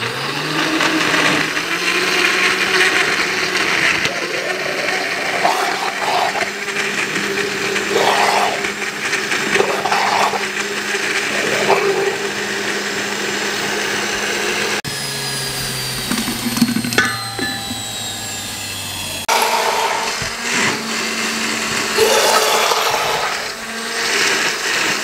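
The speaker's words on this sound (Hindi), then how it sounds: "इन सब को मैं मिक्स करके थोड़ा पानी डाल के ग्राइंड करके पेस्ट तैयार कर लूँगा" Electric blender grinding onion and spices with a little water into a paste for chicken korma, a loud continuous motor whine with shifting pitch and a brief pause midway, alone with no talk.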